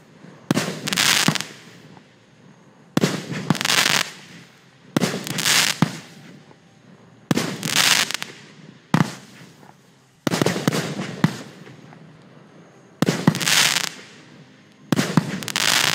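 Custom fireworks burst one after another in about seven sharp, loud explosions spaced a second or two apart, each with a short crackling tail and quiet gaps between.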